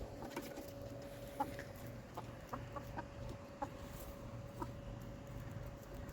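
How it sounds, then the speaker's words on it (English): Chickens emerging from their coop after a day inside cluck in quiet, scattered bursts, with several distinct short clucks spread over a faint, steady background hum. "Chickens need to come out."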